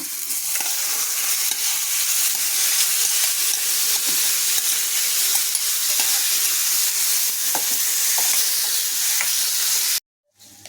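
Pre-cooked radish frying in hot spiced oil tempering, a steady loud sizzle with occasional stirring clicks, cutting off abruptly near the end.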